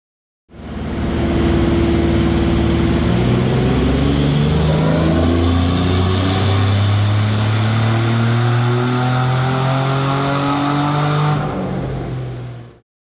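A Nissan Navara's VG30 engine revs hard and loud on a hub dyno, a sustained climbing roar with rising pitch sweeps that holds steady for over ten seconds before cutting off.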